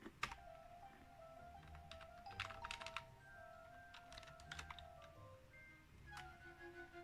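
Keys clatter on a computer keyboard plugged into a PC during an upgrade, faint clusters of quick clicks with pauses and a steady background hum.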